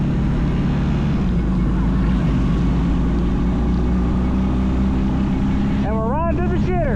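A bagger motorcycle rolling along with a steady, loud engine drone and heavy wind rumble, plus a brief rising-and-falling whine near the end.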